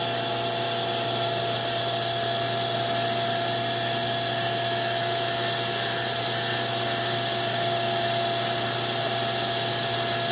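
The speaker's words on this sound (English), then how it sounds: "So now we're going to cut the B-side text." An engraving machine cutting text into the back of a 15mm triangle pendant, a steady high-pitched whine with constant tones, loud and unbroken, with no talking.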